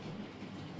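Model railway locomotive Helmingham Hall running on track, a steady low rumble with faint rhythmic wheel clatter, quiet and continuous with no voices.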